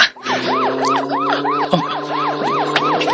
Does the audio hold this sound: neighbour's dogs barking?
no